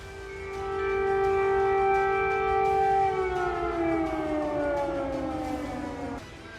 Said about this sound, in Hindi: कीव में डर और दहशत के सायरन उतनी तेजी से गूंजने लगे हैं